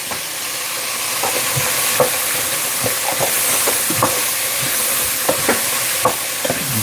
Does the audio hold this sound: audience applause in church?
no